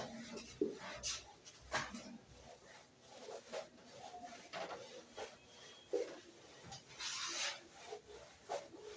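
Someone rubs writing off a board in a classroom lesson, giving repeated scratchy strokes back and forth, moderately close, in uneven bursts with no talking.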